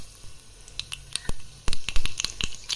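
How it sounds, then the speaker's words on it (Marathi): Mustard seeds and cumin hit hot oil in a pan, giving sharp crackles and pops that come in irregular bursts. The popping grows denser and louder toward the end, and no one speaks. "तेल तापले, आपण ह्याच्यामध्ये थोडी मोहरी, जिरं टाकूयात"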